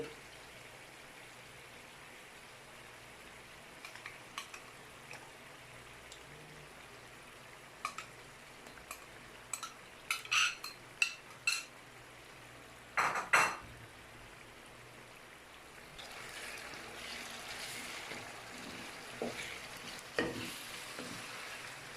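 Chicken karahi in a wok as yogurt is stirred in, with a soft low sizzle and scattered clinks and scrapes of the spoon against the pan, quiet and uneven, without talk.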